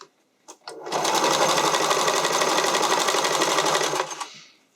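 A sewing machine runs a wide zigzag stitch with medium length, sewing elastic onto fabric for a skating dress. It makes a steady, close, rapid mechanical whir for about three seconds after a few short clicks.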